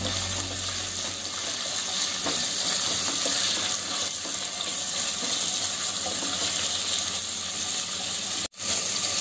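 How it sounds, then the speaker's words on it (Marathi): Onion and green chillies fry in hot oil for veg pulao, a steady close sizzle that runs unbroken for several seconds before a brief sharp dropout near the end. "लगेच त्याच्यामध्ये आपला कांदा घालायचा आणि हिरव्या मिरच्या सुद्धा"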